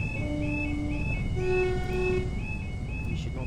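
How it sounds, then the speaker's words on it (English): A train in Train Sim World on the West Somerset Railway passes a level crossing: sustained horn-like tones sound over a continuous rumble, with a brief break near the middle. "Through the train going past the level crossing."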